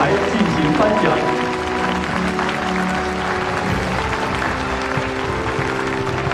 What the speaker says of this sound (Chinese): 让我们以热烈的掌声，有请领导上台进行颁奖